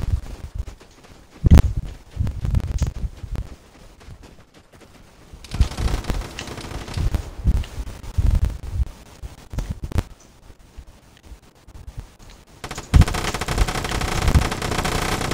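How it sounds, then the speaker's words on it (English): A light machine gun fires in the shooter game Vigor, crouched, in repeated rapid bursts separated by short pauses. Sharp, dense rattles come close and loud over a low ambient bed across the whole stretch. "this gun actually fires, so this is my favorite LMG, low-key"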